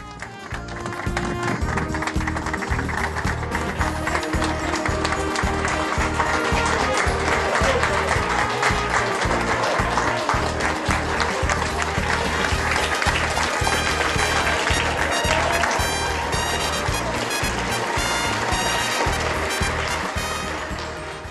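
An audience in a church at an inauguration service claps loudly and steadily, a dense and sustained roar of applause that fills the space, with voices faintly mixed in underneath.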